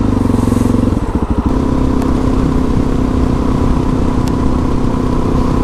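A Suzuki DRZ motorcycle with an aftermarket muffler rumbles loudly and close, a deep steady engine note with a short burst of throttle blips early on, beside a partly frozen river.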